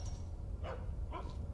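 Two short, muffled barks from a dog in the video game Geist, spaced about half a second apart, heard faintly over a low, steady background hum.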